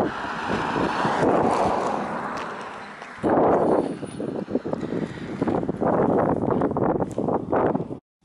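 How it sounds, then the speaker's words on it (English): Breezy wind outdoors at Nant Gwrtheyrn buffets the microphone in a steady, loud, roaring rush that briefly dips, then returns with gusting rumble until it cuts off. "it's quite breezy today"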